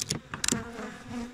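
Honeybees at a hive moved to its wintering site buzz close by, a brief wavering drone with a few sharper wingbeat bursts.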